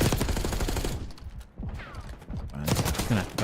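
Gunfire in a Counter-Strike match, rapid bursts of shots in quick succession that pause briefly mid-clip then resume, with a commentator talking over the action.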